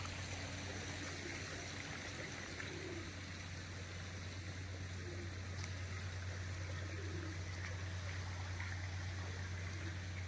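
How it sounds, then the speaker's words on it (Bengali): Water falling from above onto a garden seating area, a constant rushing splash like a small cascade with a steady low hum underneath, even and unbroken, no one talking. "জল পড়ে উপর দিয়ে, রেন ডান্স করা যায়"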